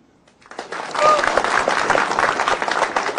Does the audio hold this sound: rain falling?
no